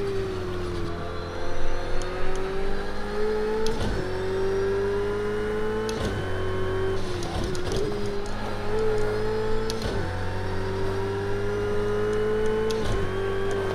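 A Ferrari race car engine in the Project Cars 2 racing game drones steadily at high revs, with brief dips and gear-shift interruptions every couple of seconds as it accelerates, up close and alone.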